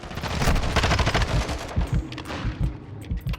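Rapid automatic gunfire from the video game Modern Warfare 2, dense overlapping bursts of loud shots rattling steadily throughout, slightly easing toward the end.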